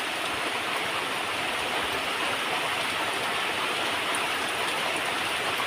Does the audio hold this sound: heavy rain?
yes